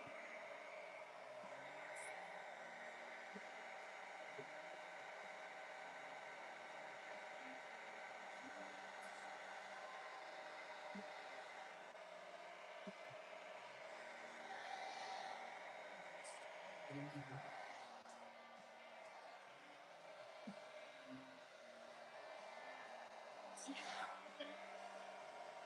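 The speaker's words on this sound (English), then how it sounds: "Maybe perhaps my hair dryer is actually hot enough to get these to shrink." A hair dryer blows steadily at close range while shrink tubing is heated for a lightsaber prop, a constant airy whoosh with faint clicks and handling noises over it.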